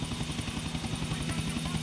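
A helicopter in GTA IV flies past city buildings with a loud, continuous rotor beat, rapid regular thuds layered over a droning engine hum from start to finish.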